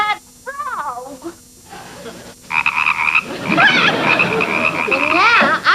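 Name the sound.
frog croaking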